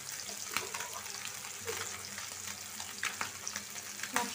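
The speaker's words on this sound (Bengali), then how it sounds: "মাছটা ভাজা হয়ে গেছে," Tengra fish sizzles and crackles steadily in hot cooking oil, with a dense continuous hiss and scattered sharp pops close by.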